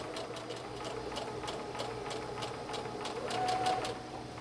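Domestic sewing machine running steadily at slow speed, stitching forward and reverse around the armhole edge of a pillowcase dress, with an even rhythmic needle tick over a low motor hum, moderately quiet.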